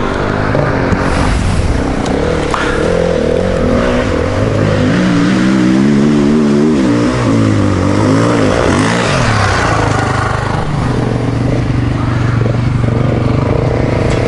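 An off-road vehicle engine revs hard while climbing a steep forest hill, a loud continuous drone with rising and falling pitch as the throttle is held, close by throughout.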